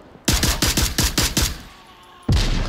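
Rapid automatic gunfire from a rifle in the tactical VR shooter Onward, about seven loud, close shots in a quick burst, a short lull, then another sharp shot at the end.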